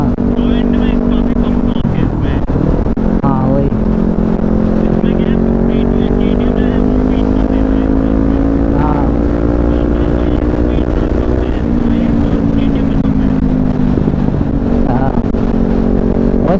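Kawasaki Z250 motorcycle riding at speed, a steady loud engine drone with rising and falling pitch as it pulls through the gears, with constant wind rush and someone talking over it.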